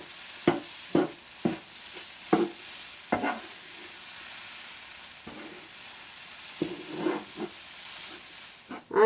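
Ethiopian yemitad shiro cooking on a hot clay griddle with the heat off gets turned in a handful of sharp scraping strokes, each with a brief sizzle, separated by quiet gaps, close and soft.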